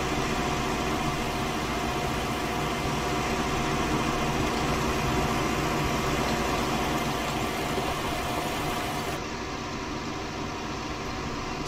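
A Zetor Proxima tractor engine in Farming Simulator 19 drones steadily under load while driving down a field, a constant mid-pitched hum with a slight drop in tone near the end.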